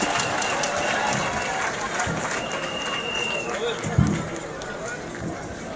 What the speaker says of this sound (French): Encore des applaudissements pour M. Topé Sylvestre, premier adjoint au maire de Bonoa.